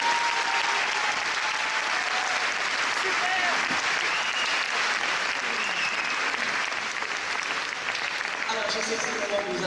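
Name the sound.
audience applauding the actors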